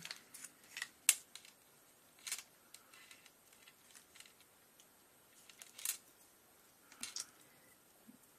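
Scissors snipping paper offcuts for a handmade card: sparse, quiet, crisp clicks and cuts at irregular intervals, close by, with no talk.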